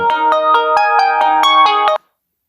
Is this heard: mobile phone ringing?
yes